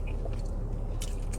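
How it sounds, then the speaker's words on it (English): Biting and chewing crunchy fast food from a dumpling shop, eaten in a car during a mukbang; a few close, crisp crunches over a low background hum with no talk. "And it's so crunchy too."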